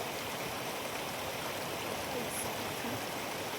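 Water streams out of the rocks at Zaina Falls, a steady close rushing and splashing that holds at an even level throughout with no voices.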